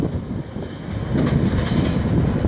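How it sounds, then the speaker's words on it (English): Florida East Coast Railway train 202 rolls past at Holly Street in Miko, a loud close rumble of wheels and cars that builds partway through and stays strong. "Look at that train."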